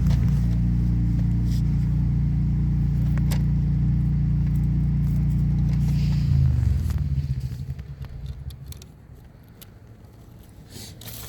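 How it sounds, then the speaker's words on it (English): A neighbor's snowblower engine runs with a loud, steady low drone for about seven seconds, then drops away to a faint rumble. "Our neighbor is testing his snowblower while we're doing this."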